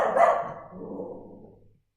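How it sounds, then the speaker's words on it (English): A single dog bark, close and fairly loud, with a short tail that fades out over a second or so, with no one talking. "Dog."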